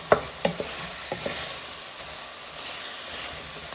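Beef and black pepper are stirred in a pan over lowered heat, with a few scraping clacks of the utensil up front and a steady sizzle and hiss carrying on underneath.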